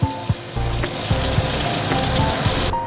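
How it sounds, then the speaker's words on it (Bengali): Pointed gourd pieces frying in hot oil in a pan give a continuous close crackle and sizzle, with scattered pops and a few light knocks of utensils. "বাদ বাকি যে পটলগুলো আছে এইভাবে ভেজে নেব।"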